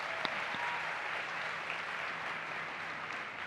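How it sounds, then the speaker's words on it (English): An audience at a Relay For Life summit session applauds in a dense, steady wash of clapping that lasts throughout at moderate volume. "Let's give them a round of applause."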